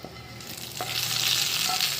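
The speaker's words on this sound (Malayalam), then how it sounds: "ആഡ് ചെയ്ത് നമുക്ക് നന്നായിട്ട് ഇളക്കാം. അത് ഇളക്കി യോജിപ്പിക്കാം." Fried mustard seeds and coconut being stirred into a kootukari curry make a close, steady scraping sizzle that swells louder through the stir, with no talking.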